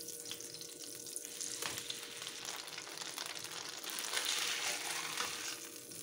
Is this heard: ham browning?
yes